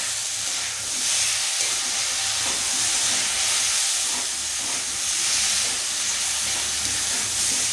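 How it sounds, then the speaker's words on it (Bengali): Spices and salt sizzle in a hot pan with a steady, close frying hiss that swells and eases slightly, with no talking. "আর এবার দিচ্ছি একটু লবণ দিয়ে ভালো করে মশলাটা কষিয়ে নেব।"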